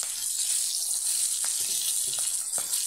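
Flour-coated milkfish (bangus) fries in oil over a low flame, giving a steady, close hiss of sizzling with faint crackles and small pops throughout.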